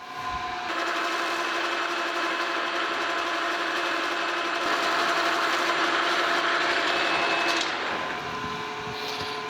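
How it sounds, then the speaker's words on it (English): A Monarch 10EE lathe runs with a steady bright mechanical whine while Scotch-Brite rubs rust off the machine, a continuous hissing scrub under the motor hum that eases near the end. "I'm gonna get some Scotch-Brite and just kind of hit this and try to get some of that rust off of there"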